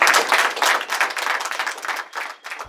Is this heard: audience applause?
yes